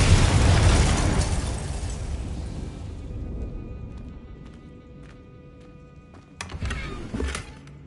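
A Confringo fire spell explodes in Hogwarts Legacy on PS5: a loud, close blast opens and rumbles away over about three seconds, then quiet in-game ambience with steady tones, and a couple of sharper bursts near the end.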